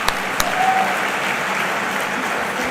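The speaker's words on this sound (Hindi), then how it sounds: "जोरदार ताली एक बार बजा दो" Applause from an audience at a Hindi hasya kavi sammelan, a comedy poetry gathering, keeps a steady dense clatter of many hands from start to finish, with a couple of sharper claps near the beginning and no talk.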